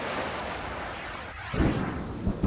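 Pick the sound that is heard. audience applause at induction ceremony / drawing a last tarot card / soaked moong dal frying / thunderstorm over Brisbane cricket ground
thunderstorm over Brisbane cricket ground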